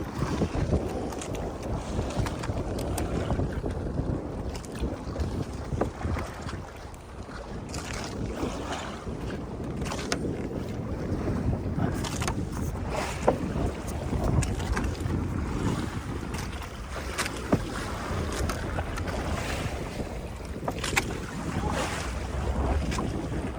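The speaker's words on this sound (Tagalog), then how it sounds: "Lakas ang hangin." Strong wind buffets the microphone in loud, uneven gusts, with rushing water and wave noise underneath for the whole stretch.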